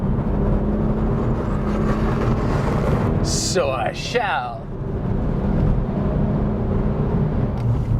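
A BMW 1M Coupe engine pulls hard at full throttle, a steady loud roar filling the cabin throughout, with a brief voice speaking over it midway.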